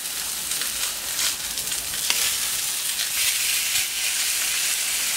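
Young chickens (coquelets) sizzle and fry on a hot plancha grill, a steady, loud, dense crackling hiss that continues throughout with no speech.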